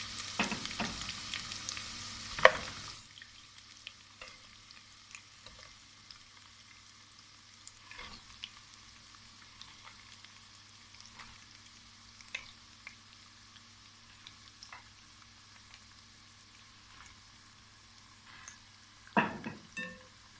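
Chicken fries in a pan with a loud sizzle at first that quickly drops to a quiet, steady hiss, with occasional faint clinks and one stir near the end; no one speaks.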